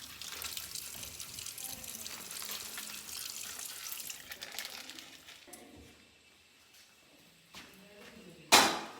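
Water runs from a tap into a vessel for making tea, a steady rushing hiss that fades to quiet, followed by a couple of knocks and a sharp clatter at the end.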